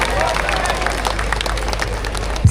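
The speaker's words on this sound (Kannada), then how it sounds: "ಇನ್ನೊಂದ್ಸಲ ಚಪ್ಪಾಳೆ ಬರಲಿ" An audience at a Kannada Rajyotsava celebration in Kolar claps in a dense, continuous patter of applause, with crowd babble mixed in.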